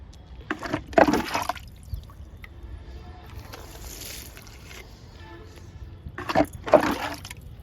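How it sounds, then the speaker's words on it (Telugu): Liquid made from papaya peels is poured onto garden plants, heard as two bursts of splashing and gurgling near the start and end, with softer trickling in between. "లిక్విడ్ పోస్తున్నా లిక్విడ్ని"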